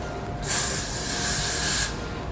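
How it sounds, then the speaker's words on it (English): A single sustained aerosol spray of hair product onto a wig hisses for about a second and a half, close and steady, with no talking. "I'm going to spray down this area"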